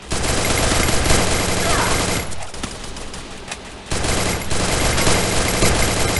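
Rapid gunfire crackles in a shootout in the mobile battle game Free Fire, loud and dense bursts that drop briefly to a thinner patch mid-clip before the heavy firing resumes.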